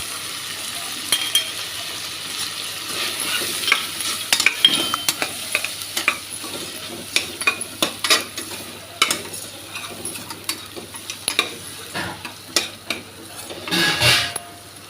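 Kurma masala with chili powder and green chilies fries in a pan, with a steady sizzle under repeated scraping and clinking of a spoon stirring against the metal. A louder clatter comes near the end, and no one talks.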